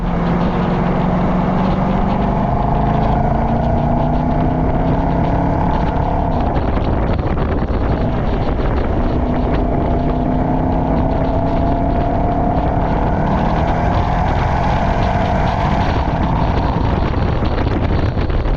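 The V8 engine of a 2025 Nissan Patrol Warrior (Y62) ute drones steadily while driving, a loud, smooth low hum with rising and falling pitch under road and wind noise.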